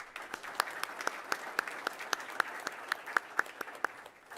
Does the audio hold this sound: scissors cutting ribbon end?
no